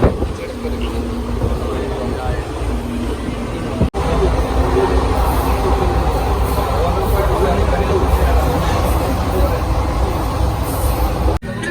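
Inside a crowded moving train, a constant heavy rumble of wheels and carriage fills the space, with a continuous murmur of passengers talking throughout.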